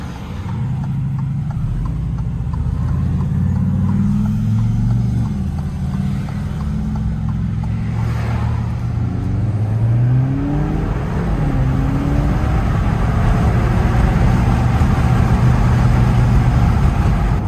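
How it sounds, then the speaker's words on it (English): A tuned Alfa Romeo Giulia accelerates hard on a back road, its engine note climbing steadily and loudly for the whole stretch, with blow-off valve chatter and whooshes breaking through between the rising revs. "I gotta show y'all this blow-off valve"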